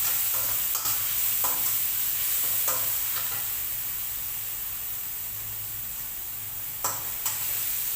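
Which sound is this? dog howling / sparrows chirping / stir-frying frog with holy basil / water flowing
stir-frying frog with holy basil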